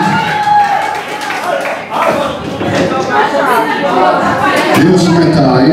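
At a women's carnival race in Rozwadza, a crowd cheers and claps as a woman finishes. The noise is loud, dense and continuous, with shouting voices and chatter throughout.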